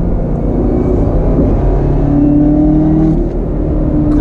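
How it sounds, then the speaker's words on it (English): A 2019 Chevrolet Camaro ZL1 1LE on track roars loud and close, its supercharged engine sustaining a strong rumble with a rising whine layered on top, continuous with no speech. "And the whine of the supercharger is a nice extra touch."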